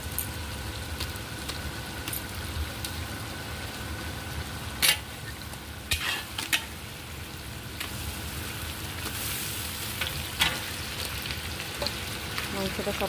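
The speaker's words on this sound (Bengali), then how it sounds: "এবার আমি মাংসটা দিয়ে দেবো এর মধ্যে। মাংসটার সাথে সাথে টমেটোটাও কষা হয়ে যাবে।" Chicken and tomatoes sizzle together in a pan for curry, a steady, close crackling fry that continues throughout, broken by a few sharp knocks of a utensil.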